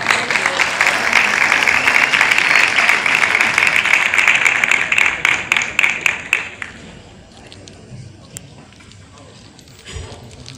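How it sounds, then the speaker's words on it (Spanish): Applause from the audience at an award ceremony swells into a loud, sustained round, then thins into scattered individual claps that die away near the end. "Un fuerte aplauso para el Monchi Papá."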